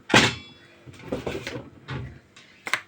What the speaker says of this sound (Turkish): Kapıyı aç. Kapattık kapıyı ama.